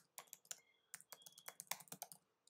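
Typing on a computer keyboard into a browser address bar, a quick irregular run of crisp, close key clicks in a quiet room with no other sounds.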